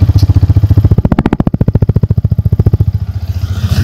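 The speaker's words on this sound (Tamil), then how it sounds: "இது வந்து ஹைட்லிங் சவுண்ட் எப்படி இருக்குன்னு பார்த்துருங்க." A 2025 Yamaha MT-15 motorcycle engine idles close up with a loud, rapid, even thump of exhaust pulses that briefly quickens and rises before settling back to a steady idle.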